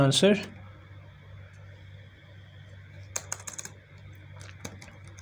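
A computer keyboard clatters in a short burst of keystrokes, close and moderately loud, after a brief moment of someone speaking Hindi.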